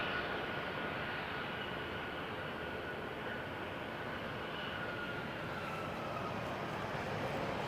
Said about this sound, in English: Air Canada 957 headed to San Francisco on an A220.